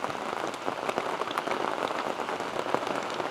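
Heavy storm rain pours steadily onto a surface at a campsite on a solo Georgia traverse, a dense, even hiss with scattered louder drops, close and continuous, with no voices.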